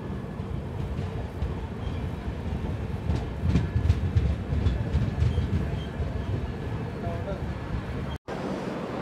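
The 12755 Kakinada Port–Bhavnagar superfast express at Nalgonda gives a steady, close rumble of rolling carriages with faint clicks, continuous and loud throughout.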